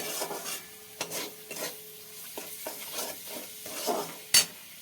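Spoon scraping and stirring masala as it fries in oil in a pan over medium heat, a series of rhythmic rasping strokes over a soft sizzle, with a sharp clink near the end.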